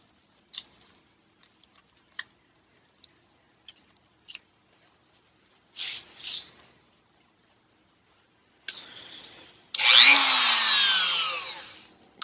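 A Dremel rotary tool fitted with a carbon fiber cutting blade cuts into plastic motorcycle cowling on a Ducati Multistrada. Scattered small clicks and handling noises lead into two short whirring bursts, then a loud sustained high-pitched grinding whine closes the clip.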